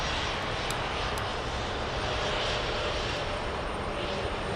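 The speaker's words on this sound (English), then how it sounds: "Little Embraer 190. Long range." An Air Dolomiti Embraer 190 jet at Frankfurt airport gives a loud, steady, broad engine roar that fills the whole stretch without pause, with no voices heard.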